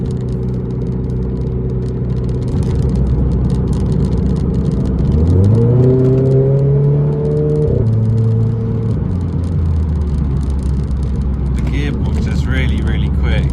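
Renault Clio RS car engine rising in pitch as it accelerates hard out of a corner, heard from inside with steady road and engine drone, then settling; a person speaks during the drive.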